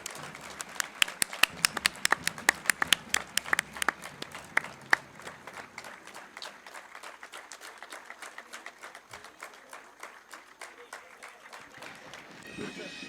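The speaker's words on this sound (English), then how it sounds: "A huge round of applause, everyone." Audience applause at the MIT-WPU Sports Summit 2021 inauguration ceremony, sharp and loud at first with distinct claps, then settling into a steady, softer patter of clapping from the crowd for nearly all of its length.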